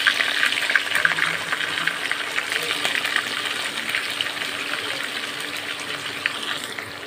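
Chopped onions hit hot oil in a heated pan and sizzle with a steady, close, bright hiss that holds evenly throughout.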